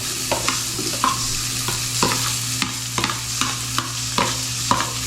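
Onion stirred and sautéing in a little leftover frying oil in a pan, with a steady sizzle and repeated scraping stir strokes about every half second, close and alone.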